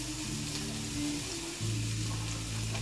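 A steady, close sizzling of onions frying in a pan, with a low hum shifting in the background partway through.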